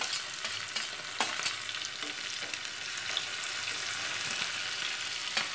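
Onion frying in hot oil with garlic, a steady close sizzle broken by several scraping stirs of the spoon in the pan.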